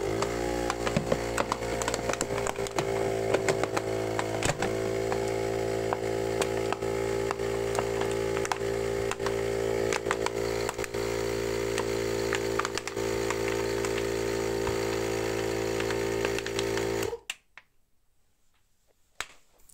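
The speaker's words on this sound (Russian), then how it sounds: "Включаем компрессор и смотрим," A small air compressor runs steadily, inflating plastic bottles placed under a sofa to lift it. Its droning hum carries frequent ticking clicks, then stops abruptly near the end.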